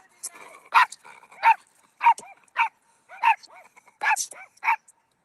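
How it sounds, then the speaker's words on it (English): Several dogs bark back and forth at each other in short, sharp bursts, about eight close yaps and barks with brief gaps between them, loud against an otherwise quiet outdoor background. "We're having dog wars"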